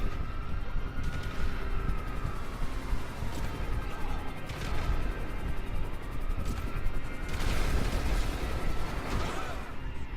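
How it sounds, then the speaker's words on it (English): Mortar rounds fire from a Weaponized Tampa in GTA 5 as a few heavy thumping blasts spaced a few seconds apart, each followed by a whistling descent, over steady engine and ambient rumble. "The next thing is the mortar."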